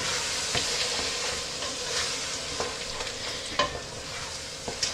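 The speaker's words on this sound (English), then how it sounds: "What we're going to do is make a roux with that. And a roux is fat and flour." Whole grain flour stirred into hot fat for a roux in a pan, a steady close sizzle with scattered scraping clicks of the spoon, no voices.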